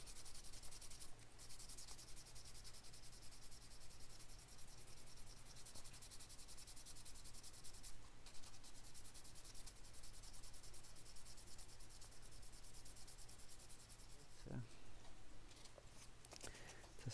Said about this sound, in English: We'll just sand the inner surface of the arm there so it has a bit more clearance.